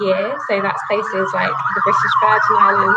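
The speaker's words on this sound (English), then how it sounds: "you might be able to hear the police car going outside my window." A police car siren wails outside a window, a loud wavering two-tone sweep running continuously under a man's steady speech.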